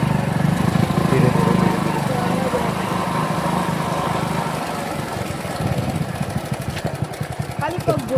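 Motorcycle engine droning steadily and close during a slow ride with a young first-time rider and a passenger on the back, a continuous rough hum running under conversation.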